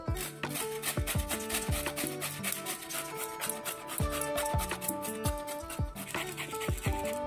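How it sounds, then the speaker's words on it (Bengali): Ash gourd being grated on the fine side of a hand grater, steady rapid rasping strokes repeating in an even rhythm, close and fairly quiet with no talk. "আমি গ্রেটারের এই ছোট দিকটা দিয়ে ঘষে নেব।"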